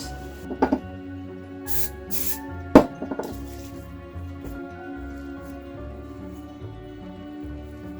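Two short hissing bursts of cooking spray onto hands, close by, amid quiet kitchen handling sounds and a few soft clicks.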